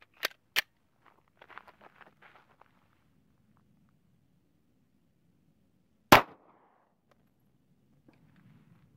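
Glock 45 9mm pistol fired outdoors at a target box, three sharp loud shots, two in quick succession and one several seconds later, with faint handling noise between.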